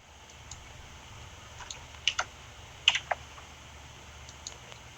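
A handful of crisp computer-keyboard keystrokes tapped out in short, quick clusters as a single word is typed, close and fairly quiet over faint room hiss, with no speech.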